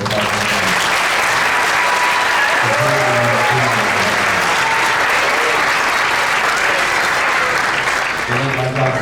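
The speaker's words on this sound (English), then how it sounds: "One big round of applause." Audience applause fills a school winter concert for sixth graders, steady dense clapping throughout with some voices and low tones mixed in underneath.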